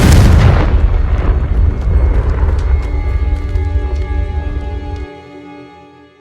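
A single Confringo spell explosion in the Hogwarts Legacy video game, a loud close boom at the start whose deep rumble and ringing tail fade slowly over several seconds.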